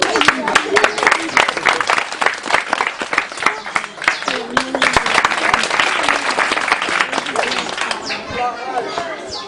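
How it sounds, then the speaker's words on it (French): A small group claps loudly and close by, a busy irregular burst of hand claps with some voices mixed in, thinning toward the end as chatter takes over. "Applaudis."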